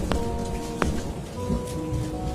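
Steady heavy rain in a cold riverside storm scene, a dense continuous hiss with a couple of sharp close drop impacts and low rumbling underneath, no voices.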